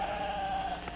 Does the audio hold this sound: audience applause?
no